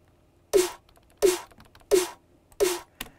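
A short electronic clap sample layered over a snare for dubstep, struck four times at a steady pace with a fainter fifth hit at the end, each a crisp burst of noise that dies quickly.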